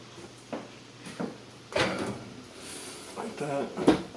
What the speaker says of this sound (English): I can go ahead and put my shells in the oven